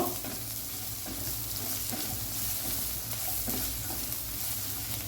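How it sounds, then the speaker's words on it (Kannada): Fennel seeds and spices fry in a pan, a steady close sizzle and hiss with occasional stirring scrapes, continuous throughout with no speech. "ಇದೆಲ್ಲ ಫ್ರೈ ಆಗ್ತಾ ಬಂತು"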